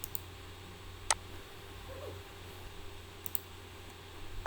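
Two faint, sharp mouse clicks on an on-screen button, about two seconds apart, over a quiet steady hum during a screen recording of a finance testnet walkthrough.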